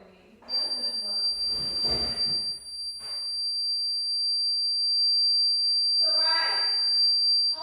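A household alarm emits a steady, piercing high-pitched electronic tone that sounds continuously throughout, while people talk over it near the start and again toward the end.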